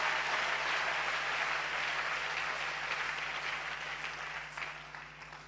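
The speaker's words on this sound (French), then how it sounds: "j'aimerais que tu acclames très fort." Sustained applause from a church congregation during a sermon, a steady wash of clapping that stays loud for several seconds and slowly thins toward the end.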